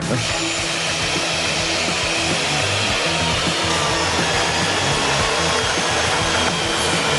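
A magnetic drill clamped to the steel face of a safe, boring into its metal wall: a loud, continuous grinding whir with rough broadband texture, steady and close for the whole stretch, no talk over it.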